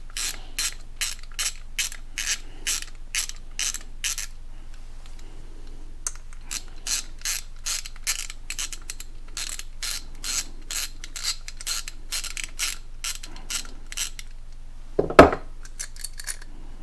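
A hand ratchet loosens 8mm bolts on a 2022 Honda Grom intake manifold. Fast, evenly spaced clicking runs in two long bursts, close and clear, with a sharp metallic knock near the end.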